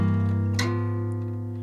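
An acoustic guitar plays two chords back to back. The sustained strums ring softly and close, with a brief pick attack where the second chord comes in.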